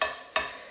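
Food frying in a big pan: a bright, steady sizzle with a sharp burst of fresh spitting partway through, loud and close with no voices.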